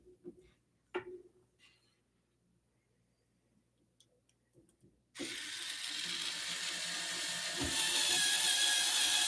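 Screws being tightened during assembly of a Prusa i3 MK3S+ 3D printer, a few soft clicks and ratcheting taps at first, then a sudden switch to a loud, steady whirring mechanical noise that continues to the end.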